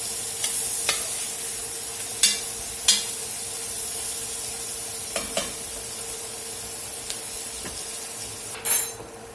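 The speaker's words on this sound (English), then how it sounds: "those been sizzling there about 4 minutes" Bell peppers and onions sizzle steadily in a hot pot, a constant frying hiss broken by occasional clinks and scrapes of stirring.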